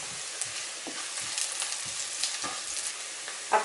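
Chopped onion, with garlic to follow, is frying in a pan for a chicken and meat pie filling. It makes a bright, continuous hiss at close range, broken by faint scrapes of stirring, and no one speaks.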